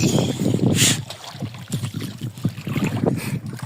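Strong wind roars and buffets the microphone while sea waves splash and churn close by on a fishing trip, a continuous rough rush with no talking.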